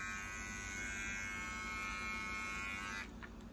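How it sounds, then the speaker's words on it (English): An electric shaver buzzes steadily and close up while shaving hair off a man's back, a continuous whine that cuts off near the end, leaving only faint room noise. "So I'm just shaving off this part"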